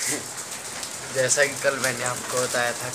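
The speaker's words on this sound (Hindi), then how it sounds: "आवाज़ सुन सकते हो, बारिश हो रही है बहुत तेज़।" Very heavy rain pours down outside with a steady hiss, and someone speaks over it throughout.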